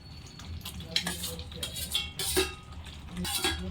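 Paneer pieces stirred in a masala in a pan: close scraping of a spoon against metal and soft frying sizzle, with bursts of stirring over a low, quiet background.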